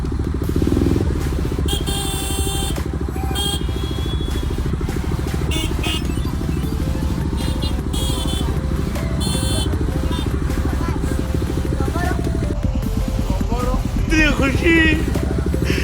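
A motorbike rides through busy traffic, its engine rumbling steadily and close throughout, with horns and clattering vehicle noise around it and people talking over it.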